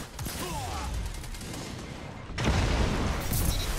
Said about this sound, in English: Oh, we got him with a grenade.